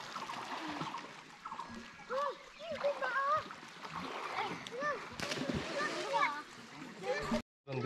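Boys splash and plunge into a waterfall pool in Bandarban's Thaan Kowain falls, with constant splashing and sloshing water, overlapping shouts and chatter from several people close by, ending in a brief cutoff.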